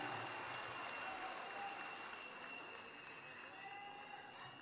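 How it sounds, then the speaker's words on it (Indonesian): Audience applause after a national unity symphony performance at a NasDem party event, a steady wash of clapping from a large crowd that continues evenly throughout, fairly distant and diffuse, with a faint voice or tone underneath. "Boleh beri tepuk tangan untuk mereka yang bekerja mempersiapkan tadi."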